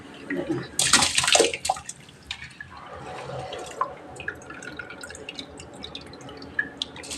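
Rice poured into a pot of boiling water for chicken biryani, a brief loud rushing splash followed by softer bubbling and scattered drips, close by.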